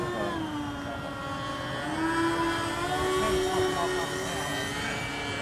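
A scratch-built radio-controlled MiG 29 model jet comes in to land, giving a steady, loud whine with shifting pitch that runs throughout, while people talk over it.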